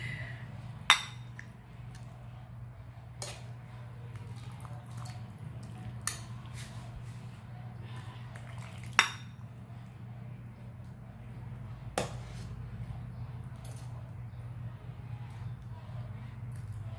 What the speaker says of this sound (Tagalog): Tayo ay magsasandok na.